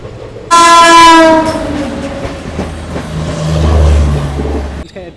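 A loud train horn blasts for about a second, then the Circar Express passenger train rumbles and clatters close by at a station, rising again before cutting off.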